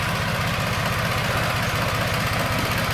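A tractor engine runs at a steady, low, rhythmic idle, close and continuous.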